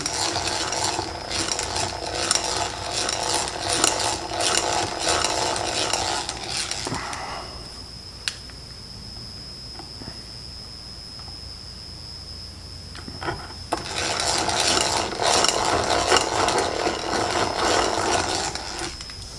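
Dense mechanical grinding and whirring, loud and continuous for several seconds, then a quiet gap with a faint high whine before the rough boring noise resumes.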